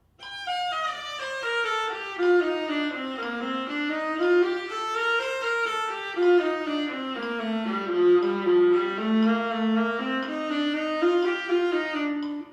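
A bowed viola plays a slow, sustained scale at 60 beats per minute, each note held evenly as the line climbs and descends; no metronome ticks stand out.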